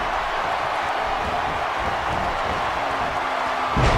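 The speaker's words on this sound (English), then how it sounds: "And listen to this crowd." Arena crowd in the WWE 2K16 wrestling video game roars steadily throughout, a dense continuous cheer that swells slightly louder at the very end, with no talk over it.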